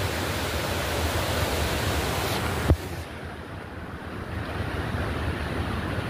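Forest waterfall of cold water pouring steadily, a loud, continuous broadband rush close by with one sharp knock midway and a slightly quieter stretch after, no voices.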